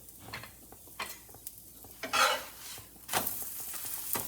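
Cauliflower paratha fries on a hot griddle with soft, intermittent sizzling, broken by scraping and tapping from a turner and a louder hiss near the end.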